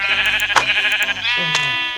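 A sheep in the Minecraft video game bleats in two quick wavering calls, loud and close, with a short clicky interruption between them.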